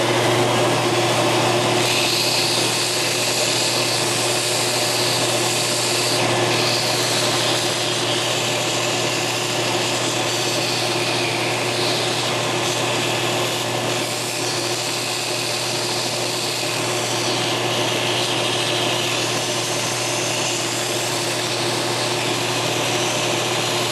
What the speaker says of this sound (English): As you're sanding the part, you want to move the part back and forth across the surface of the belt.